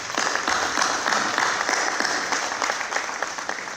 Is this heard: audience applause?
yes